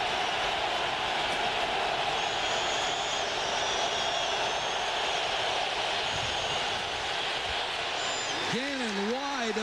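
A steady, deafening roar fills a football stadium during a 1999 Raiders–Seahawks game, holding constant across the whole stretch with whistle-like tones drifting over it.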